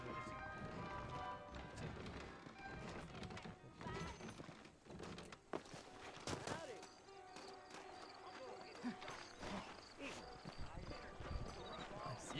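In the Red Dead Redemption video game, horses gallop in a steady clip-clop of hooves beneath game voices, music and ambient noise, the hoofbeats rhythmic and moderately close but partly masked.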